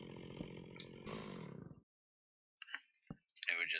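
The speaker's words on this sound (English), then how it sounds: "it's my chainsaw." Chainsaw tool in the Minecraft mod GregTech 6, heard as a loud buzzing, clicking game sound for under two seconds, then cut off into silence, followed by scattered brief in-game clicks and effects.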